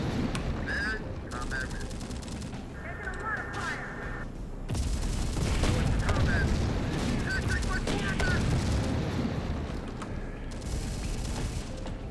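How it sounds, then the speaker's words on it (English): Artillery fire in a combat video game, heavy booms and crackling gunfire layered over continuous battle noise, with a louder barrage swelling in around the middle and sustained to the end. "it's artillery fire, so that's pretty bad"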